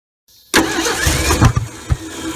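A 1968 Ford F100 pickup, left forgotten in the woods for 20 years, cranks and catches with a sudden loud burst, then runs roughly with uneven surges and a couple of sharp pops, close by.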